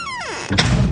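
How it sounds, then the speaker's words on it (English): A door is shut partway through, a dull broadband thump after a descending tonal sweep, fairly close and moderately loud in an indoor scene. "Would you shut that door, please?"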